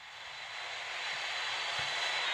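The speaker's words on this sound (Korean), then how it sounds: "자, 움직이고 있는 비행기 있죠?" A moving airplane in a video game gives off a steady jet engine whine and hiss that grows gradually louder, with a faint low rumble beneath, heard alone without speech.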